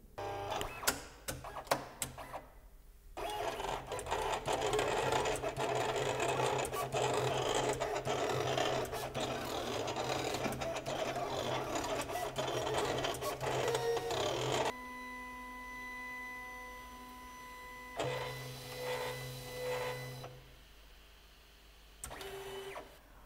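A Silhouette Cameo 4 cutting machine cuts adhesive vinyl, its carriage motor giving a steady, close mechanical whir and rasp for about twelve seconds, followed by quieter whines and tonal hums as the blade head moves and settles, with a few sharp clicks at the start.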